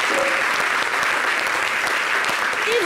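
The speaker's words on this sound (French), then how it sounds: "Est-ce qu'on peut applaudir" Steady, dense applause from a television studio audience fills the moment evenly, loud and unbroken, with no voices standing out above it.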